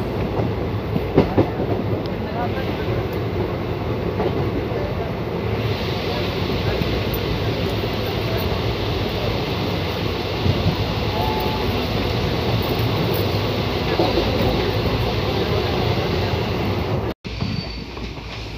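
The Rajya Rani Express passenger train rumbles steadily along the rails near Lucknow's Alamnagar Junction, a continuous loud roar with faint rhythmic clatter, heard from inside as it runs at speed.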